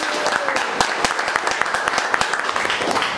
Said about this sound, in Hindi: एक बार हम सब अपने लिए जोरदार तालियां